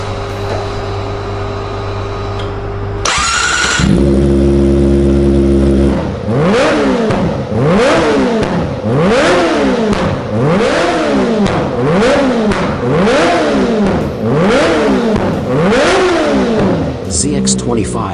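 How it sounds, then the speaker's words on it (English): A Kawasaki Ninja ZX-25R fitted with a Yoshimura exhaust revs hard on a dyno, idling briefly before a loud, close run of rapid repeated high-pitched rev sweeps rising and falling in a regular rhythm. "So let hear the Yoshimura exhaust dyno run sounds on Kawasaki Ninja ZX-25R model."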